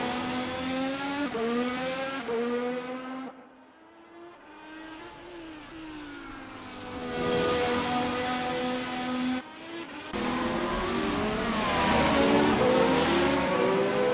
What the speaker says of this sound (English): Back over to Cody Fowler's coming through the first chicane.